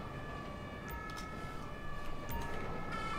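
An ambulance siren in the police-mod game GTA V LSPDFR, a faint wailing tone running under low game ambience, growing slightly louder toward the end with no talk.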